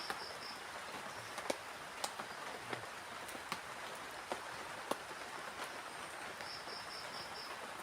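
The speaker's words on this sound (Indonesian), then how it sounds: "Sambil ditemani sama rintikan hujan ya." Light rain patters steadily at a campsite, with scattered sharper drops and faint insects chirping in the background; no voices.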